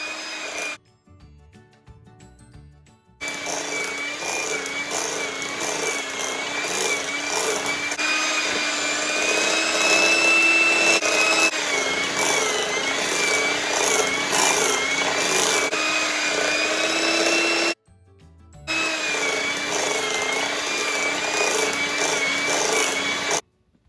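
An electric mixer beating egg yolks into creamed butter and sugar for German chocolate cake batter, a steady close whirring drone with rhythmic scraping, stopping briefly twice between runs.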